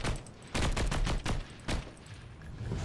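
A light machine gun firing in a shooter game, several loud rapid bursts of automatic fire broken by short pauses, close and dominant.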